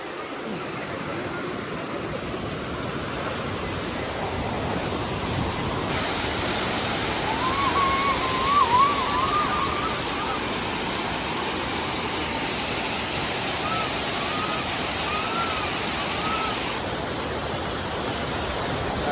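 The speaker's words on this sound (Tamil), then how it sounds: "சத்தமே வேற லெவலுக்கு. தண்ணி ஊத்துறது அருவியோட சத்தம்." Steady, dense rushing of falling water at Kodiveri Dam waterfall in Erode, India, a broad constant roar that fills the whole clip without pause.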